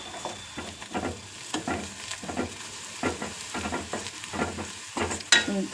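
An egg fry with plenty of chilli sizzles steadily in a pan while a spatula stirs it in repeated scraping strokes, close and fairly loud, with no voices.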